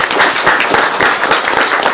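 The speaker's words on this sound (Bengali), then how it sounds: "তাদের সবার জন্য একটা হাততালি" An audience claps for the participants of a competition, a dense, steady wash of many hands fairly close and loud throughout, with no talk over it.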